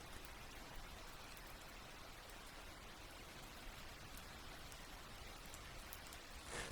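Rain falls steadily over a quiet city street, a soft even hiss of drops on hard surfaces with scattered drips, faint and continuous with no voices.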